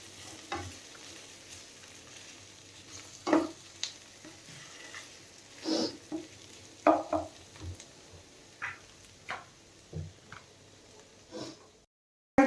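Chicken pieces and onions frying in a pan, with a soft steady sizzle beneath intermittent scrapes and taps of a spoon stirring, moderately close, with no talking.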